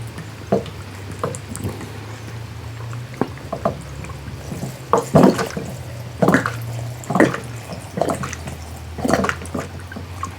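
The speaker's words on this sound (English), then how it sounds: "finish filling it up with your vodka" Vodka poured into a jar, heard as intermittent liquid splashes and drips that come in short bursts over a low steady hum, close and fairly clear.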